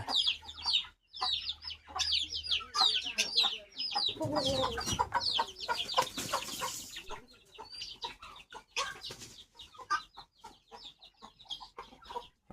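Several chickens cluck and squawk close by in a busy, irregular chorus, with a burst of flapping and scuffling midway.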